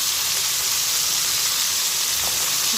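Chicken pieces deep-frying in hot oil for homemade KFC-style fried chicken, giving a loud, steady, dense sizzle that fills the whole stretch without pause and with no voices over it.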